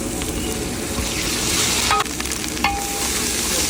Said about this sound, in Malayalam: ഇനി ബീഫ് ഫ്രൈ ചെയ്തെടുക്കാൻ പോവാണേ